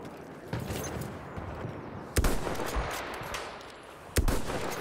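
Sniper rifle fire in Battlefield 1 cracks out in three sharp, loud shots spaced about two seconds apart, each with a brief echoing tail, over a constant rumble of battlefield ambience.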